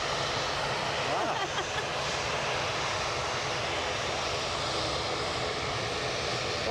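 Norwegian airliner in a special livery passing by at Edinburgh, a steady broadband engine roar that holds loud and even throughout, with no talk over it.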